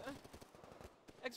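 Gunfire in the Call of Duty: World at War video game, a burst of rapid machine-gun-like shots at moderate distance, mixed with a voice talking over the fire.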